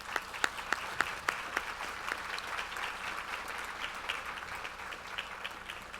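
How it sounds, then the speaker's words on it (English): An audience at an awards luncheon for professional women and business leaders applauds high school student leaders, with scattered sharp claps at first merging into steady, moderately loud clapping. "So please give these young leaders a round of applause."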